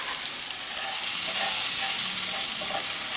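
Cut eggplant pieces frying in a pan with little sauce, a steady close hiss and crackle of sizzling that holds evenly and loudly throughout.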